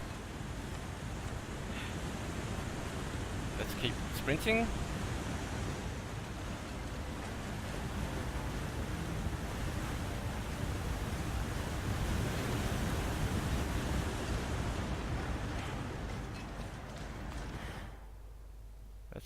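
Loud waterfalls in the snowy survival game The Long Dark pour out a constant, dense rushing roar that fills the whole stretch, with someone speaking briefly over it before it drops away at the end.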